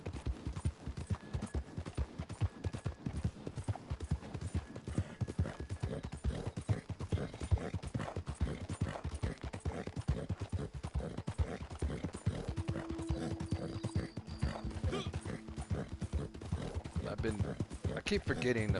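Galloping horse hooves drum in a fast, continuous rhythm in the Red Dead Online video game, loud and near for the whole stretch, with occasional game sounds and talk mixed in.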